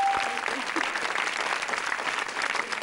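Studio audience of a Tamil children's TV game show breaking into steady, sustained applause, a dense crowd clapping throughout at a fairly even level.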